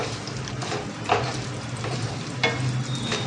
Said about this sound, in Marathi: आता हे सर्व भाजून घ्यायचं आपल्याला